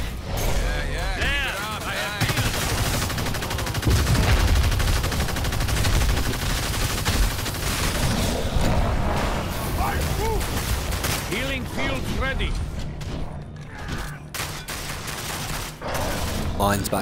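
Heavy gunfire from the Evolve video game: dense rapid volleys of shots and mechanical clatter fill the whole stretch, loud and continuous, with voices talking over the battle.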